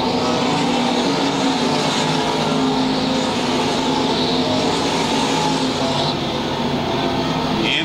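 Factory stock race cars on the final lap of a nighttime A main at Lakeside Speedway, a dense, continuous roar of several engines that holds steady and loud throughout.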